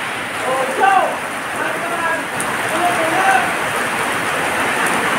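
Heavy rain pours steadily beside a rough sea where passenger boats bound for Iloilo wait, producing a constant, loud hiss with faint voices surfacing briefly beneath it.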